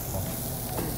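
Close, dense sizzling of beef tripe on a restaurant barbecue grill, an even crackling hiss filling the whole moment without any voices.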